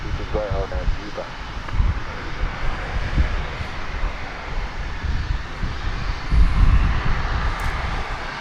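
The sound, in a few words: American Airlines flight moving at DFW Airport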